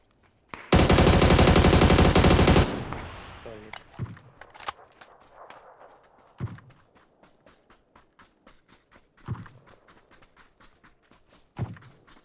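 A long, loud burst of rapid automatic gunfire is followed by quieter scattered footsteps and thuds in PUBG.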